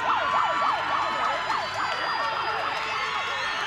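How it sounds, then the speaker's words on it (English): A loud, wailing full-time siren at a rugby league match sweeps up and down repeatedly in a steady cycle, sounding fairly close and dominating the scene with no speech. "Do we hear the siren?"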